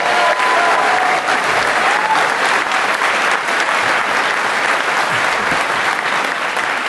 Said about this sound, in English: Come on, more applause than that.